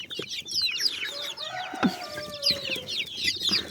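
Chickens cluck and chatter nearby, a busy flock of fowl with overlapping calls and a short louder squawk midway.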